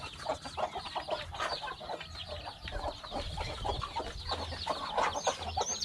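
Backyard farm chickens cluck and squawk close by, several birds calling over one another in a steady, busy chorus with no talk.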